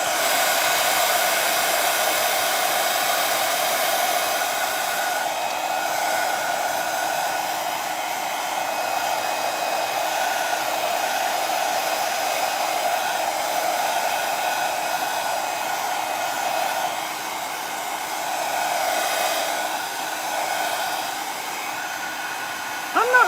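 A hair dryer blows steadily and loudly at close range as it dries a glittery wooden Easter egg craft, a constant whooshing hum with slight wavering over about twenty seconds.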